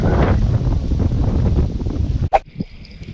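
Strong wind at a fishing pond buffets the microphone in a loud, continuous roar that drops away near the end, leaving a faint high tone.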